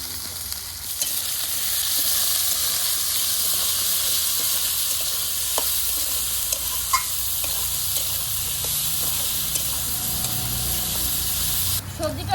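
Diced potato, carrot and cauliflower fry for upma in a pan, producing a loud, continuous sizzle with occasional stirring scrapes, steady throughout and close up.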